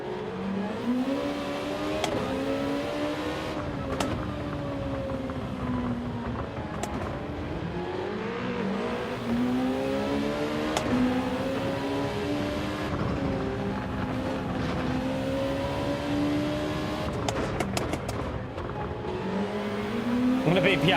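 Race car engines in Gran Turismo 7 drone and rise through gear changes, several cars whining together with occasional sharp bursts and a steady layered roar throughout.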